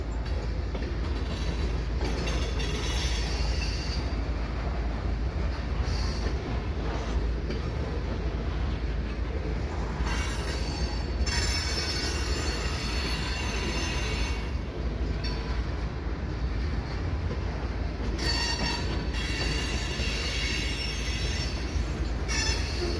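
A BNSF freight train rolls past a rail junction near Lincoln, Nebraska, with a rear DPU locomotive, wheels squealing in repeated high shrieks over a continuous rumble and clatter of passing cars.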